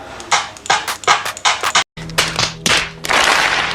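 A series of sharp, bright clap hits in quick succession, tapped out unevenly with a brief silent gap midway, loud and dry.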